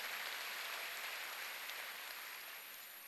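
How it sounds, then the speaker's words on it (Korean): Church congregation applauding during a Korean Sunday worship service, a dense, steady wash of many hands clapping together for about three seconds, fairly distant and even. "박수로 하나님께 영광 돌려요."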